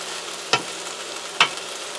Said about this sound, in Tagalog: Ating haluin itong ating ingredients ng ating pancit miki.